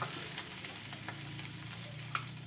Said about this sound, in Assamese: লগতে কাটি লোৱা পিঁয়াজ, এইখিনি ভালদৰে ৰঙাকৈ ভাজি ল'ম।